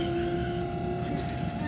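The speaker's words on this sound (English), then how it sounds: "And that's another train" A train rolls past nearby along a railway line, a steady loud rumble with a sustained tonal hum running throughout, while people talk over it.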